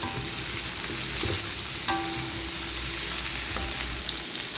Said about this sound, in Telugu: పచ్చిమిర్చి వేస్తున్నాను ఒక ఐదు పచ్చిమిర్చి ఒక పెద్ద ఉల్లిపాయ వేసి దీన్ని ఒక రెండు నిమిషాలు ఫ్రై చేస్తారండి